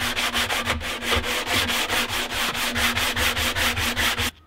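A painted wooden wall shelf clamped in a workbench is sanded by hand with quick, steady back-and-forth rubbing strokes, loud and close, continuing without pause until a sudden stop at the end.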